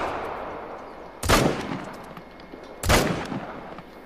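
Two loud muzzle loader rifle shots in theHunter: Call of the Wild crack out about a second and a half apart, each followed by a fading echoing rumble.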